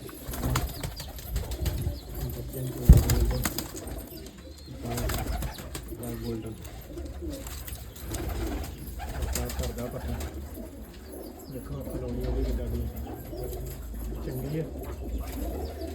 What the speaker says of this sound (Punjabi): ਤੇ ਕਿੱਦਾਂ ਦੇ ਲੱਗਦੇ ਕਬੂਤਰ ਤੁਹਾਨੂੰ